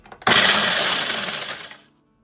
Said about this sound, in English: We need 16 ginger snaps. Let's give it a pulse.